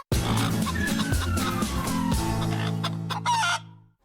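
A chicken clucks and squawks loudly and close while someone handles it. The calls are dense and continuous for a few seconds, then cut off abruptly.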